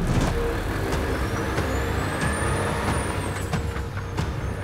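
Truck in a fuel-economy driving contest pulling away, a steady engine rumble under a rising-and-falling whine, with sharp hissing air brake bursts scattered throughout, close and loud.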